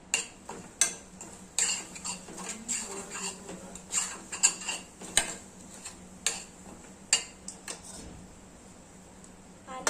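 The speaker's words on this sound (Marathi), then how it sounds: "खोबरकीस किसून घेतले होते ते टाकायचे आणि मिक्स करून घ्यायचं" Grated coconut is stirred into a mango ladoo mixture in a pan: a spoon scrapes and clicks against metal in irregular, sharp taps, fairly close, over a quiet background.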